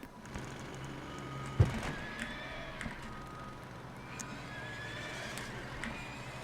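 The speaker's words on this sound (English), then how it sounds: "Because there's a lot of horses around here" Horses neighing in the city-building game Sim City 4, a faint whinny under a busy low bed of game ambience with scattered soft clicks and clops.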